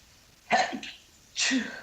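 Two sharp bursts of sneezing about a second apart, close and fairly loud, with quiet in between.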